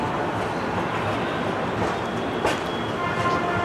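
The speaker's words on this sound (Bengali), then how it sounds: "ট্রেনটা ছেড়ে দিল বারাণসী জংশন থেকে।" The Howrah–Dehradun Kumbha Express pulls out of Varanasi Junction, heard from inside an AC third class coach as a steady, close, low rumble of rolling wheels with a faint brief squeal.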